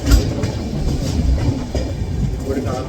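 A passenger train runs on the Pune to Renigunta line near Mantralayam Road, a loud, close, steady rumble with rhythmic wheel clatter throughout.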